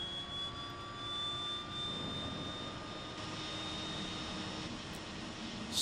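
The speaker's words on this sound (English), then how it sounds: "See if the right engine starts up." In a flight simulator, the right engine of a DHC-6-300 Twin Otter spools up with a rising turbine whine over a steady engine roar, holding loud and continuous throughout.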